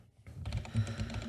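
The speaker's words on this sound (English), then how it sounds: "Yes, I look at my keys as I type." Close, fast typing on a computer keyboard during a podcast, a steady patter of soft key clicks with no talking over it.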